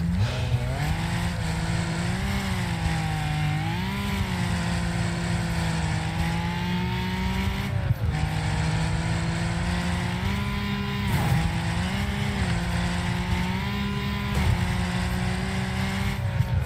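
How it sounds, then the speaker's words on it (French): A car engine in the racing game Wreckfest drones loudly and steadily throughout, its pitch rising and dipping in waves with gear changes while the car drifts, with no talk over it. "Parce qu'en plus la voiture fait du drift."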